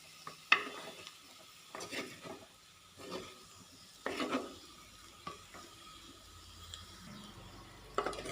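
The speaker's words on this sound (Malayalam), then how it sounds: "നന്നായിട്ടൊന്ന് ഇളക്കി കൊടുക്കുക കേട്ടോ." Spoon scraping and stirring potato fry with masala in a pan, a run of short scrapes and clinks at an uneven rhythm over faint sizzling, close and moderately quiet.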